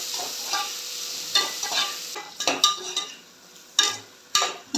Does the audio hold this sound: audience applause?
no